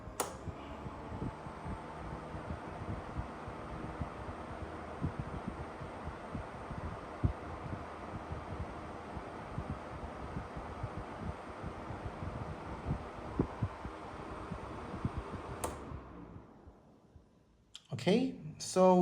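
A 1994 National F-128RM 12-inch box fan running on its high setting, a steady close whooshing airflow with a faint rhythmic thump, continuing for about fifteen seconds before a click as it is switched off.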